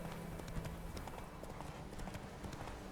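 Hooves of Roach, Geralt's horse in The Witcher 3 video game, clip-clop in a quick steady rhythm while riding, set against continuous background game noise.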